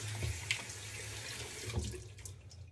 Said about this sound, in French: Je me rince les mains.